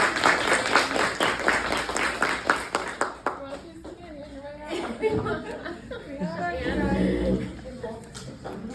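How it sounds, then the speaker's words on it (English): An audience applauds guest speakers for about three seconds with dense, steady clapping and a few chuckles, then the clapping fades and a voice continues speaking. "Let's give them a big round of applause."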